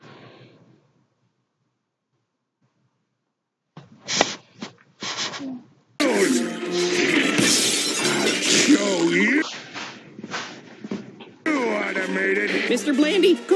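Stained glass shatters and bursts apart in a SpongeBob SquarePants cartoon, a loud crashing break with scattering fragments, following brief clipped voices and dense bright noise.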